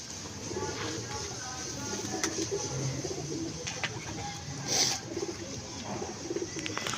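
An old pet pigeon of the prince breed coos softly on a rooftop loft, low murmuring calls repeating over steady background ambience with faint birdsong.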